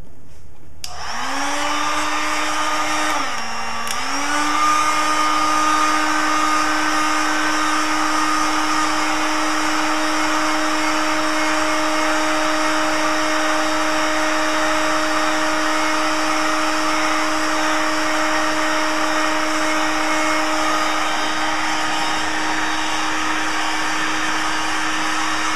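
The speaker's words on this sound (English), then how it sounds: "I'm gonna use a cheap heat gun to do this." A cheap electric heat gun blows hot air for a zipper mod, with a steady whining motor hum and airy rush that starts up, dips briefly, then holds loud and constant.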